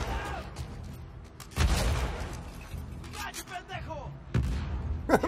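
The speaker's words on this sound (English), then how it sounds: "he's throwing bombs at him" Bombs exploding in The Last of Us Part II, with two loud, deep blasts a few seconds apart, each followed by a rumbling tail, mixed with scattered impacts and game voices talking.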